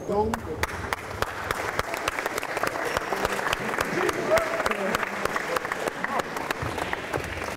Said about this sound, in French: Hey guys, on applaudit quand il va se relever